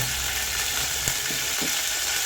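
Crushed shallots, garlic and chili fry in a pan for a Kerala-style stir-fry, making a constant, hissing sizzle with a few faint stirring clicks, close and steady throughout.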